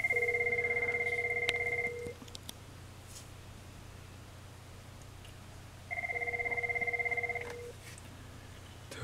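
A Cisco 3PCC 68xx IP phone with key expansion module rings after a speed dial press: two long electronic ring bursts separated by a quiet gap, clear and close over a low steady hum.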